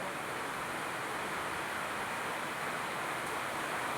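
Steady monsoon rain during the Shraban season, a dense, even hiss that stays constant throughout with no talking over it.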